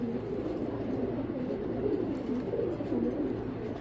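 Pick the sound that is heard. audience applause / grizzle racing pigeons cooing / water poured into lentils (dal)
grizzle racing pigeons cooing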